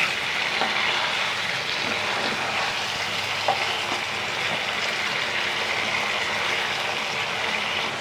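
Chicken liver tossed with spices in a hot pan for kosha, giving a loud, continuous close sizzle with faint scrapes of stirring throughout.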